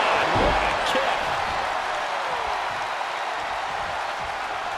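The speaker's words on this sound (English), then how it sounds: "The roar of this crowd has been building, and they are in a fever pitch right now." Crowd roaring in the WWE 2K22 wrestling video game during a female tournament match, a loud, steady wash of cheering with a thud or slam near the start.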